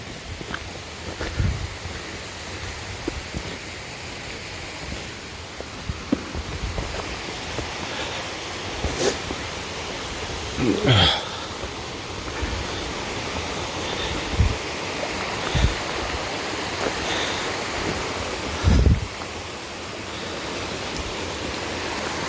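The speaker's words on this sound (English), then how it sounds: "There's a waterfall there." A forest waterfall on a backpacking trail in Allegheny National Forest, a steady broadband rush of falling water heard from a distance behind foliage, with occasional footsteps and faint handling noises.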